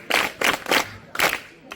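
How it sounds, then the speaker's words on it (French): An audience at an international environmental forum in Cotonou, Benin, claps in four short bursts, fairly close and loud with pauses between, then a brief final clap. "Well, now clap for him."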